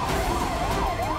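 Wavering emergency siren from fire brigade trucks responding to a blaze in a three-storey building, rising and falling steadily and fairly loud throughout, with no talking.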